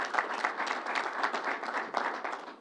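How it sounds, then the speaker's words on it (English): A crowd at a public event with Governor Cuomo gives a round of applause, brisk dense clapping that stays fairly close and even throughout. "Let's give them a round of applause."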